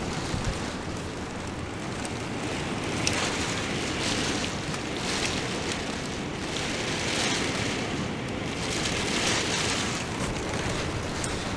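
Heavy rain pouring down steadily in Australia, a dense unbroken hiss at a constant loud level with no voices.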